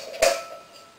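A metal stove hanger is packed into a homemade hobo stove, giving a single bright metallic clink with a short ringing tail, followed by quiet faint rattles.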